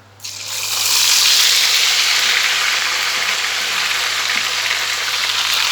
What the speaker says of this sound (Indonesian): Ikannya aku goreng.